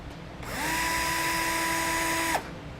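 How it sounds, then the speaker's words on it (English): A power drill briefly whirs against a bumper bracket on a 2018 Chevrolet Sonic, a close, loud, steady whine lasting about two seconds before stopping. "I'm just going to make a quick mark with my drill"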